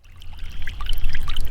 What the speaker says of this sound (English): water flows through the tubes into our water containers.